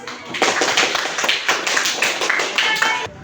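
Classroom group of students clapping together after a group presentation, a dense burst of hand claps that starts abruptly, holds steady and stops sharply near the end, close and fairly loud.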